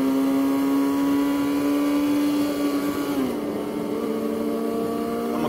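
A motorcycle accelerating through the gears as the rider shifts into third, with a loud steady engine whine that climbs, then dips briefly at the shift before carrying on at a lower pitch.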